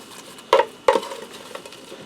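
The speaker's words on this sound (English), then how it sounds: "I'm going to give this a stir." A spoon stirs pork tenderloin and garlic potatoes in a Ninja Speedi cooker, two sharp clanks against the pot close together, followed by faint scraping, with no talk.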